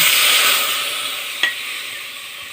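Mustard fish curry gravy bubbling in a pan as it is stirred, a soft steady hiss with a faint scrape or clink midway, no voices.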